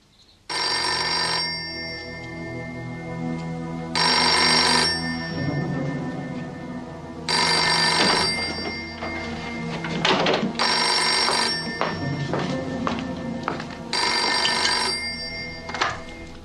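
A landline telephone rings in repeated bursts, five loud electronic trills separated by pauses, with faint room sounds and movement between rings and no speech.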